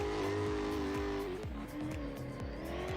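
A BMW race car driven hard during a qualifying session, its engine loud and close throughout with steady high revs, repeated rapid gear-shift dips and tire squeal as it works through the course.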